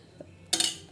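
A spoon clinks and scrapes against a pan while paneer mixed veg curry is stirred on low heat, a brief metallic clatter after a soft tap, close and alone.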